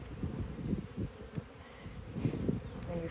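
Bees buzz in a steady, low hum from an opened beehive during a spring inspection, with soft handling noises from the hive mixed in, fairly quiet and close.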